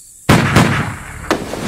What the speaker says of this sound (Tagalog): parang putok ng baril yun ah